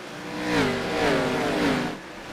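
An ARCA stock car engine revs and accelerates past off a corner during a race, its pitch rising and swelling loudly before fading slightly at the end.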